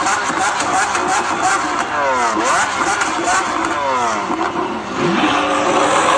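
A Lamborghini Aventador LP 700-4 in a video game pulls away, its engine roaring loudly with repeated rising and falling revs under a steady hum of other noise, and a voice briefly speaks over it.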